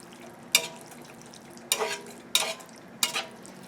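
Spaghetti sauce being stirred in a pan, with four brief scraping, sizzling strokes of a spoon against the pan spaced irregularly over a quiet simmer.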